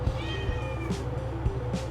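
A cat meows twice in quick succession at a door, close and fairly loud, over a steady low hum.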